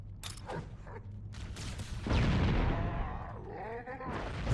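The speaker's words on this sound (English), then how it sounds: "I only recognize them from green explosions." Green explosions in the video game Halo: Combat Evolved, on the level The Maw: a loud, rough blast swells up about halfway through and rumbles on, following scattered sharper game effects.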